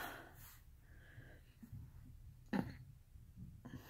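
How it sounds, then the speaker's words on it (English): A single low, throaty burp from a woman with an upset stomach, close but fairly faint, rising out of a quiet room with soft background noise. "I don't want to keep burping in your face."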